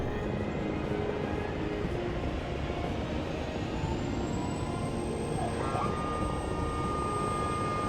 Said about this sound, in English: Here's our helicopter.